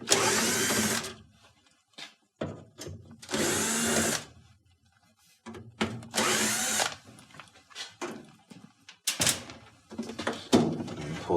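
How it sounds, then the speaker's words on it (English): A power screwdriver removes four Torx screws from the top of a GE Hotpoint washer's control panel in several loud whirring bursts, separated by short pauses and quieter handling clicks. "we got 4 torque screws at the top to remove"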